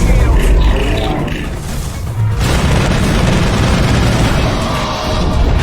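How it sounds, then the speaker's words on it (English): Laser gunfire in the Mass Effect video game, a dense loud wash of blasts and booms with a sharp burst midway, continuous roaring game audio throughout. "Look at that laser gun fire."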